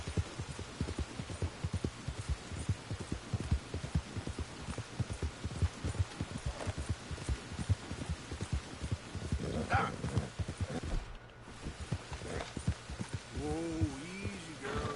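Horse hooves clip-clopping at a steady trotting rhythm in Red Dead Redemption II, close and continuous, with faint rain-like texture and brief voices over the top.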